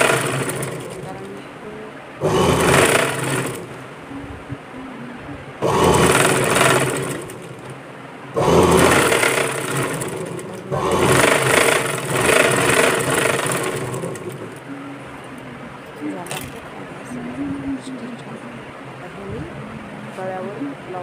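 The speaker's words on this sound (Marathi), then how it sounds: "गळ्यावर ब्लाऊजच्या जॉईंटवर कसा शिवून होतो बघा" A sewing machine stitches the back neck of a blouse in four loud, whirring runs of a second or two each, separated by pauses. Someone talks throughout, both during and between the bursts.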